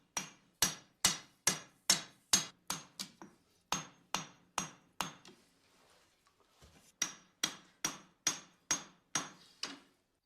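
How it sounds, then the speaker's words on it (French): A steel bar is hammered to forge a katana blade, giving a steady run of sharp, ringing metal blows. About a dozen strikes come close and loud, then a brief pause, then another even series. "Jour après jour, Gassan martèle la barre d'acier."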